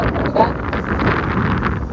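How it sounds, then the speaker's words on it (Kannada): Strong wind on Kappatagudda hill buffets the microphone in a steady, loud roar with gusty rumbling throughout. "ಫುಲ್ ಬಿಟ್ಟೈತಿ ಗಾಳಿ, ನೋಡ್ತಿರ್ಬೋದು ನೀವು."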